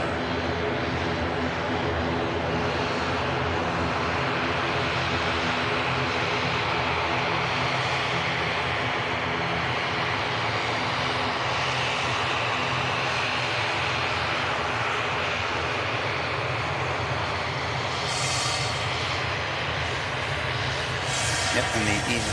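An EasyJet jet airliner departs Manchester Airport, its engines giving a loud, steady, broadband roar that holds for the whole stretch, with a voice talking over it.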